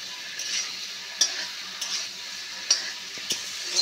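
Pointed gourd, prawn and potato sauté in oil in a pan over a clay stove, a steady soft sizzle broken by a few sharp ticks and scrapes of a stirring utensil against the pan.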